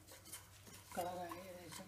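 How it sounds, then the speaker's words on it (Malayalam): Coconut roasting in a pan for a ginger curry is stirred with a utensil, giving scraping and clinking strokes against the metal, close and fairly quiet, with no talk. "കുറച്ച് കൂടെ ഇളക്കാം"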